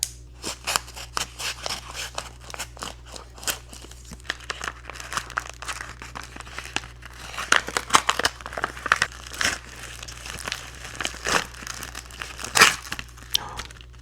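A paper envelope from a Pokémon mystery box crinkles and crackles close up as it is handled, a long run of sharp, irregular rustles and crunches with a few louder bursts.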